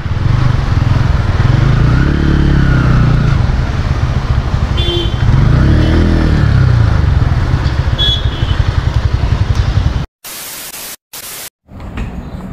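A Bajaj Platina 110 disc-brake motorcycle engine hums loud and close as it rides up to a dealership, its pitch rising and falling with the throttle under wind buffeting, then cutting off in choppy bursts near the end.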